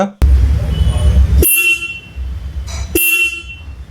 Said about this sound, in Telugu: కింద సింగిల్ హార్న్ ఇచ్చారు. సింగిల్ హార్న్ అయినా సరే లౌడ్గా ఉంది,